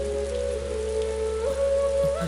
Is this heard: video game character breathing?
no